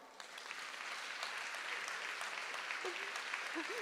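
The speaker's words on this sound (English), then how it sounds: "Big applause." A conference audience at a women's mentoring panel applauds a panelist, a faint, steady patter of many hands clapping in a large room, with a brief voice near the end.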